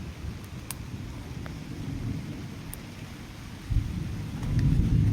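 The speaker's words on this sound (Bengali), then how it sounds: "আকাশ খুবই ডাকছে" Thunder rumbles low and continuous during steady rain near a chili field, the deep roll swelling slightly toward the end under the constant patter of falling water.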